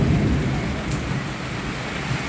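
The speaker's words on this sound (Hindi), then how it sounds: "ये देखो बादल गरज रहे हैं, बिजली चमक रही है" Low rumbling thunder rolling through heavy pouring rain, a deep swell at the start fading into a steady loud hiss of rainfall, with no one talking.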